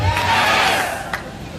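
An audience shouts back loudly in response to a motivational speaker at a crowded event in Kundapur, a brief dense roar of many voices that tapers off.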